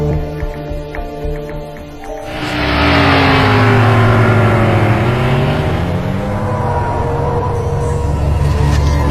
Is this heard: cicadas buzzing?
no